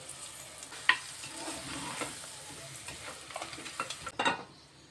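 Mutton kheema with tomato, coriander powder, garam masala and kasuri methi frying in a pan makes a soft, continuous sizzle. A spoon stirs it with scattered scraping clicks, including a sharper knock early on and a cluster near the end.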